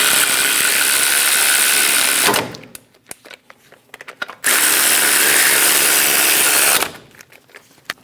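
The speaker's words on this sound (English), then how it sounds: "Snug down the bolts." A ratchet snugs down the brake caliper pin bolts on a 2001-2006 Chevrolet Silverado 2500 HD, heard as two loud, sustained bursts of rapid clicking separated by quieter, scattered ticks, close to the listener.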